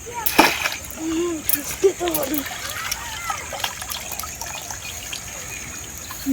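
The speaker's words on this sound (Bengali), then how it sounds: "পুকুরে নামছি দেখি কি পাই" Someone wading into a cold garden pond while hunting for crabs stirs up a few close splashes and trickles early on, then the water settles into quieter dripping and gentle movement.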